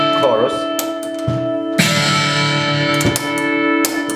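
Electric guitar run through a Kemper profiler with its chorus modulation effect, sustained shimmering chords ringing loud with brief pauses between strums.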